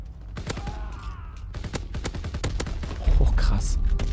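Hip-fire bursts from a paratrooper's gun in a WW2 shooter game, repeated sharp shots in quick succession with a heavy sustained burst at the end, while a person talks over them.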